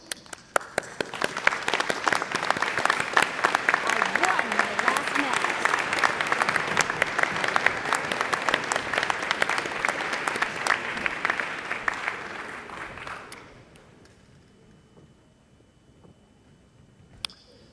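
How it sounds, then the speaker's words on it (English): A graduate commencement crowd stands and applauds families, dense sustained clapping that fills the hall for about thirteen seconds before stopping abruptly into near silence. "giving them a standing round of applause"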